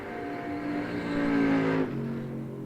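A drag racing car accelerates hard down the track, a loud close engine roar climbing in pitch before cutting off abruptly and dropping away.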